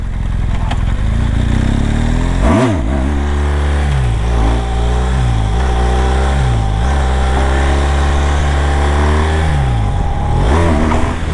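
A BMW 1200 motorcycle engine revs hard and close, rising and falling in repeated throttle blips with a steady loud idle between, ending in another sharp rev.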